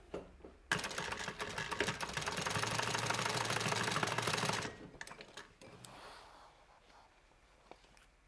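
A sewing machine stitches fabric lining in one steady run of a few seconds, a fast, loud mechanical chatter that stops abruptly, followed by quieter handling noises.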